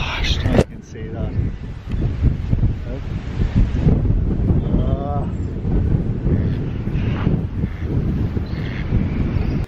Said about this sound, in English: today it's windy. Very windy